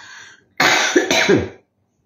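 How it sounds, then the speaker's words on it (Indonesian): Two harsh coughs in quick succession with a throat-clearing rasp, close and fairly loud, after a brief quiet start. "mohon maaf masih ada sisa batuk"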